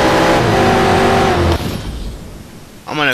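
A race car engine roars loudly in the Need for Speed Shift video game, a sustained high whine that drops off abruptly, then surges back as the revs climb again near the end.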